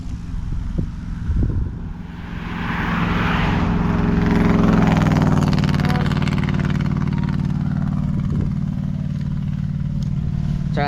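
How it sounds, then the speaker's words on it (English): A motorcycle passes on a nearby rural road, its engine swelling from faint to a loud, close drone with a rising and falling pitch that lingers as it moves off. "Sorry, that was a motorcycle."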